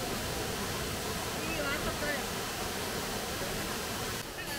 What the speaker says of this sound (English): Soon we arrived at the impressive waterfall,